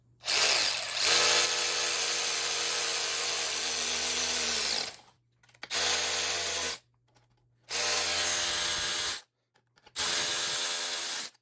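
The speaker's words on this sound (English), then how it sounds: "And I got to use my brand new ratchet wrench, which made Derek a little nervous." A power tool runs on a wagon project in four bursts, a long first run and three shorter ones, each a loud, steady whirring drone separated by short silences.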